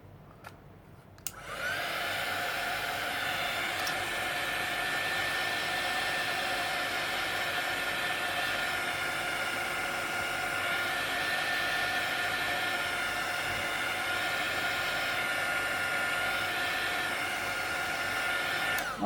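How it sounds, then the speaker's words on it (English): A craft heat tool blows over gesso on an art journal page: a click, then a steady loud whirring hiss with a high whine that runs unbroken for over fifteen seconds, close and with no talk. "Now I'm going to help it dry quickly with my heat tool so I can stamp."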